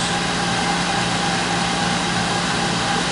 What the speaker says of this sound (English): it starts the pump and the nozzles come down, and you're going to hear the pump going